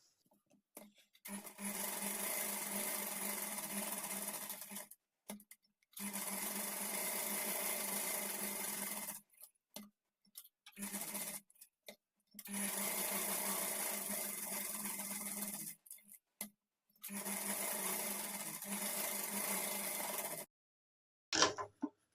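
A sewing machine stitches along the edge of a blouse piece with a zari border in four sustained bursts of motor whir separated by short silent pauses, fairly loud and close.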